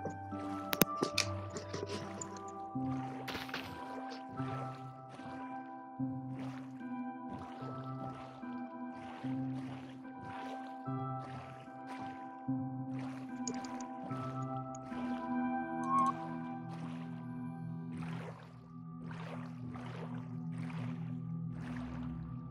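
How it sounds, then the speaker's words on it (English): Boat on ocean water in Minecraft: soft, repeated lapping and paddle splashes in a steady rhythm, with quiet tonal game music behind and faint talk now and then. "I'm just in my boat in the ocean"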